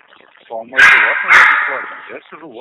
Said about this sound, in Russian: Что у тебя там тявкает?